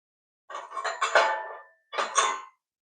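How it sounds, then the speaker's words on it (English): Metal parts of a 26-inch Torker Barbarian retro bicycle clink together as the forks are slid onto the bearing, giving two short bursts of close, bright rattling clanks separated by a brief pause. "And throw that bearing on. Now we can slide the forks in."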